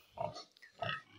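A pig on a farm that has just given birth lets out two short grunting snorts, close by and fairly quiet, with a brief pause between them.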